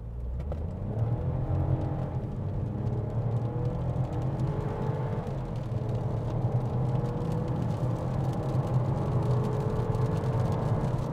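2025 VW Taigo 1.0 TSI accelerating hard from 0 to 100 km/h in sport mode on a wet surface, a steady engine drone rising in pitch through gear changes, heard from inside the cabin, moderately quiet.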